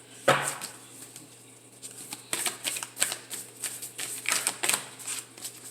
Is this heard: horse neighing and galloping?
no